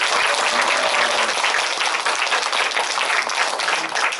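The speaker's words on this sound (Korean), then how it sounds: "여러분 하나님께 영광의 박수." A church congregation claps together in praise during a worship service, giving a steady, loud, even roar of applause throughout with no voices over it.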